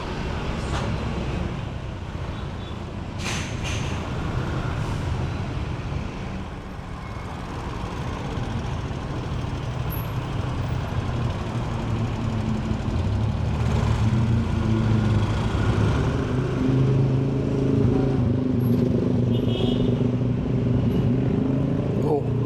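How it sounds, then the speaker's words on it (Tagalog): Road traffic of cars and trucks rumbles continuously nearby, with a steady low engine drone that swells toward the end, and a person talks over it. "Grabe naman yung traffic dyan."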